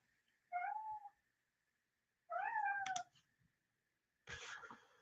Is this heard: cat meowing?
yes